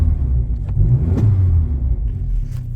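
A Saab 2.3 turbo engine fitted in a UAZ 452 4x4 idles with a deep, steady low rumble close by, with slight irregular surges and no voices.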